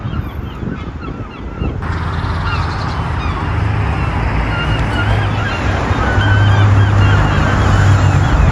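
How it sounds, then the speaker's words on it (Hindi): Outdoors in England, a large flock of geese keeps up a loud chorus of honking calls overhead, with the calls thickening as the flock nears, over a steady wash of background noise. "देखो इतने सारे पंछी कहाँ से आए हैं"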